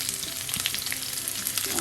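Half a teaspoon of mustard seeds crackling in hot coconut oil, a dense, close, continuous spattering hiss with quick popping bursts and no voices.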